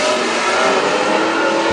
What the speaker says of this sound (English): One junior, Tim Johnson, points that car out of turn four, working his way to the flag stand, leading at the end of that first lap.